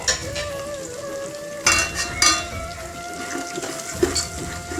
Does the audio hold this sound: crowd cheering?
no